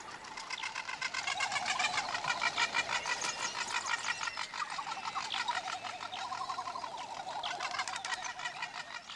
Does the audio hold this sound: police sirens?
no